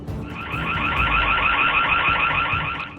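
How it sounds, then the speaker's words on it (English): A home security camera blares its alarm in a steady, loud electronic warble that pulses rapidly and continues without a break over a low background rumble. "The security camera begins to blare out its alarm."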